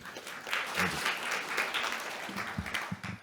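Audience applause at an indoor conference on whistleblowing mechanisms, greeting the State Chancellery director; steady, dense clapping fills the whole stretch, with a few low murmurs near the end.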